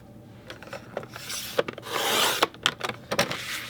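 Close, dry rasping and scraping strokes from cutting a piece of paper for a card, coming in short irregular bursts.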